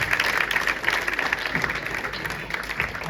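An audience at a school or community gathering claps steadily in a dense, continuous wash of applause, welcoming a guest named Sunil from Rohtak to the stage, with little talk audible.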